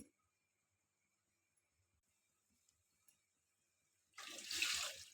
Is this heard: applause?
no